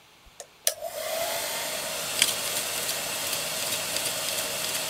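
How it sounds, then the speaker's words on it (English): A handheld hairdryer switches on after a couple of clicks and blows a steady, loud whooshing hum at a paper pinwheel, holding constant with a faint flutter throughout. "So I'm going to use my hairdryer, and hopefully my wheel is going to spin."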